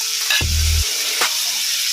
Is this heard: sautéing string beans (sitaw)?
yes